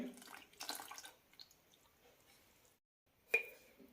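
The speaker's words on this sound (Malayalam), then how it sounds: "രണ്ട് ടേബിൾ സ്പൂൺ വെള്ളം ഒഴിക്കാം." Brief, close splashes of water poured into thick ragi idli batter with soaked flattened rice, a few soft squishy pours separated by quiet pauses, ending with a sharp clink.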